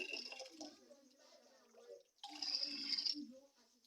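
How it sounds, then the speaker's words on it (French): Blessed water poured into a calabash, a soft splashing trickle that swells louder for about a second and a half near the end, with quiet clatter and movement around it. "Je prends cette eau. Surtout, je le mets dans ce calebasse."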